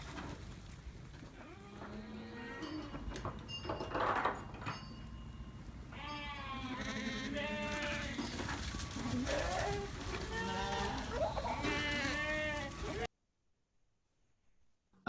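Lambs bleating on a farm, many overlapping cries over steady background noise and rustling, then an abrupt cut to silence near the end.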